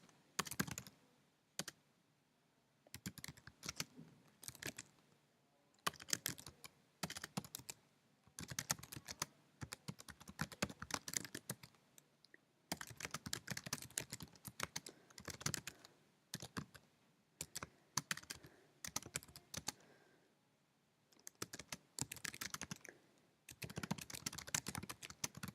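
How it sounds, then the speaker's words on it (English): Bursts of close, quiet typing on a computer keyboard, rapid key clicks in uneven runs separated by short pauses, with no talking. "So I'm going to type that here"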